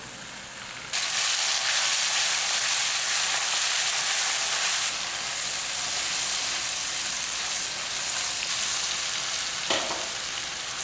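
Onions and a cut tomato frying in a pan for a brinjal and egg side dish, a loud continuous sizzle that jumps in intensity after a second and stays steady, with a brief stir sound near the end.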